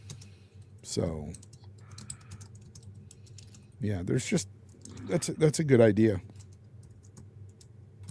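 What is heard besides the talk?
typing on a computer keyboard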